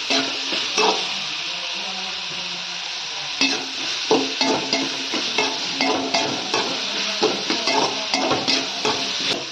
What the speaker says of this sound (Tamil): வெங்காயம் நல்லா வதங்கினாதான் குழம்பு டேஸ்ட் கிடைக்கும்